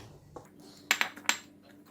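Chili and garlic being pounded in a mortar for Thai nam prik kapi: three sharp, close knocks in quick succession after a soft shuffle, with a hard, clattering ring over a quiet background.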